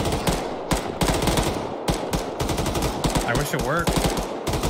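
Automatic gunfire in the military video game Arma 3, dense rapid bursts aimed at enemies between compounds, loud and close, with voices talking over the shooting.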